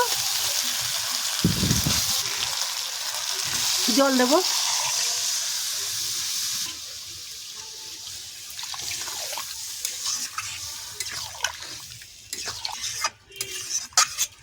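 Water poured into a hot pan of sizzling egg curry masala with potato and cauliflower, a loud splash and hiss at first, then settling into quieter bubbling and scattered clinks and stirring.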